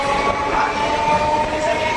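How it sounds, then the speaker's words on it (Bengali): A Kolkata local train pulls out of platform 1 at Bidhannagar Road station, bound for Naihati. Its steady rolling rumble carries a faint high whine, continuous and fairly loud, with no voices. "ট্রেন আমাদের বিধাননগর রোড রেলওয়ে স্টেশনের 1 নম্বর প্ল্যাটফর্ম থেকে রওনা দিল তার গন্তব্য নৈহাটির উদ্দেশ্যে"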